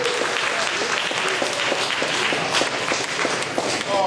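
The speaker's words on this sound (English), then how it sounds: "Give our brother another round of applause." Sustained applause from an audience following a speech at a fall 2013 lecture event, dense steady clapping filling the hall at an even loudness throughout.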